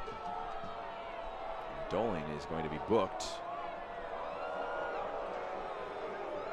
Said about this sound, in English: You can hear how the home crowd feels about that decision.